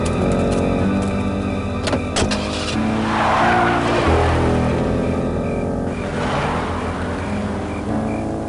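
A car driving in the 1995 Full Throttle adventure game, engine droning under a tonal music score, with sharp screeching tire skids and a brief rushing swell.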